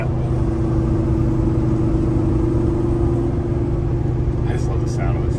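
A heavy diesel semi-truck engine idles with a steady, deep, droning hum and constant low tonal rumble, close and even throughout.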